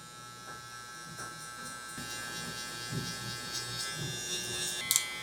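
Electric hair clippers buzz steadily while blending a curly-hair low taper haircut, lever open, a continuous close hum with small bumps as the blade moves through the hair.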